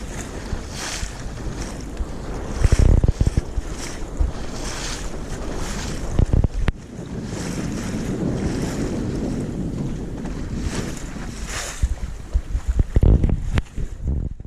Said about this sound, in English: So this is sailing up Loch Cregnish, having come across from Jura, sailed quite a way